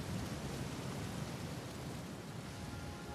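Thunder rumbling under steady rain in the video game Uncharted 4, a dense continuous low roar of storm noise with no distinct single crack, filling the whole stretch alone without any talk.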